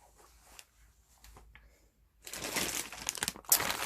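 A plastic bag of mixed glitters is handled up close, with faint rustles giving way to a burst of loud, continuous crinkling and crackling.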